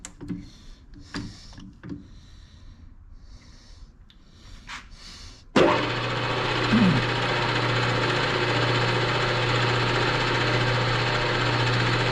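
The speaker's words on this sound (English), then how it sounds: "Now I've got to drill a number 38 drill all the way through." A number 38 drill bores all the way through a metal rocker arm bracket part; the machine starts abruptly partway in, then runs as a loud, steady hum with a low tone under it after quieter shop noises.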